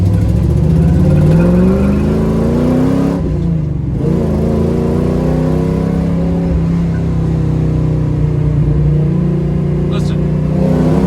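A 1967 Chevrolet Camaro muscle car engine revs and pulls through steady acceleration, a loud sustained drone with rising pitch, briefly easing off mid-way before building again.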